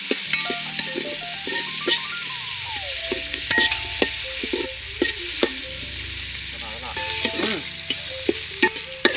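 Onions sautéing in a pan until golden, with steady sizzling and the scrape and clink of stirring, scattered sharp utensil taps over a continuous frying hiss, close by with no talking.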